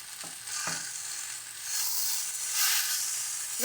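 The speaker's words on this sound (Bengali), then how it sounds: "এবার সমস্ত কিছুকে ভালো করে মিশিয়ে দিচ্ছি।" A spiced taro dish with dry chili powder, green chili paste and salt fries in a pan, giving a continuous soft sizzle with a couple of early utensil knocks as it is mixed.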